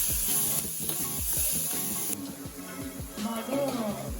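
Mixed vegetables, capsicum among them, fry in a pan for an onion-garlic boiled egg curry, a close hiss broken by quick rhythmic scrapes of a spatula stirring, with no talk over it.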